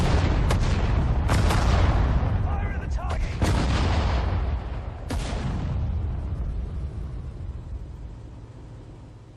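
Heavy gunfire and booming cannon shots from a tank battle in Sudden Strike 4 at Tobruk, loud repeated blasts with rumbling tails that overlap, fading somewhat toward the end.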